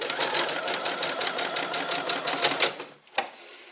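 A sewing machine stitching a seam about 2 cm from the fabric edge runs in a fast, steady mechanical rattle, close and clear, then stops abruptly with a couple of final clicks.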